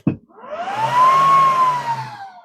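A WeCreat Lumos portable laser engraver powers on with a click, then a fan whirs up into a rising and falling tonal hum that holds steadily, close and moderately loud with no talking.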